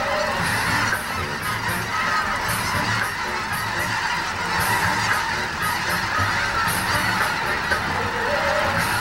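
A dense flock of geese honks continuously and loudly, overlapping calls filling the air with no pause, heard from a sailing boat outdoors.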